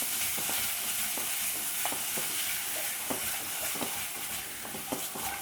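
Ground spice paste stirred into a sautéed base for thick egg curry, a continuous close sizzle broken by regular spoon scrapes and clacks against the pan.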